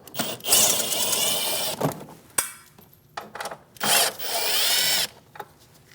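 A power drill spins out 7mm bolts from the inner fender liner of a Chevrolet Malibu, loud whirring bursts starting and stopping several times up close.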